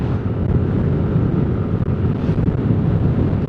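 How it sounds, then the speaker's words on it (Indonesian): Strong wind buffeting the microphone while riding along a coastal road at around 60 to 70 km per hour, a loud continuous low roar with no voices. "Soalnya di sini anginnya lumayan kencang, biar nanti suaranya tidak pecah atau anginnya tidak masuk ke dalam."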